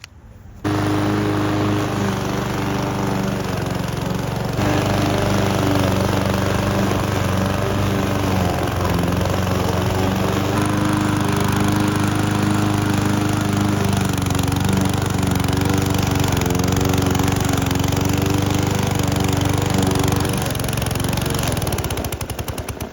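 A Power Smart 22-inch gas lawn mower runs loud and close through tall, wet grass, its engine droning continuously with brief shifts in load as it bogs and recovers.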